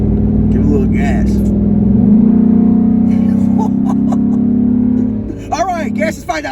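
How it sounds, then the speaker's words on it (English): A Ford Raptor's 6.2L V8 engine rumbles loudly and steadily up close while gas is applied, its deep drone holding for several seconds before dropping away, with people talking over it. "come on, step on it a little bit. Give it a little gas."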